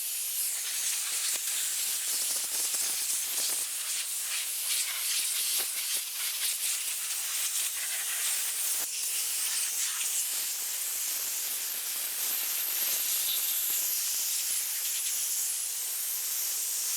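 A leaking air nozzle with the wrong fitting lets compressed air escape in a loud, steady, broadband hiss that runs unbroken throughout, close up and without speech.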